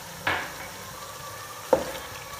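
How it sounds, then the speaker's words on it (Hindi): Beef for nihari is stir-fried with garlic paste in a pan, giving a faint steady sizzle broken by two brief scraping stirs, with no talk. "और इसकी अब हम साथ साथ भुनाई करेंगे अच्छी तरह।"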